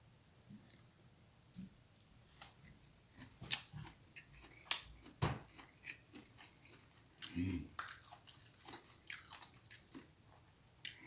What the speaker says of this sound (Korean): 오가피순을 한번 초장에 찍어 먹어보겠습니다.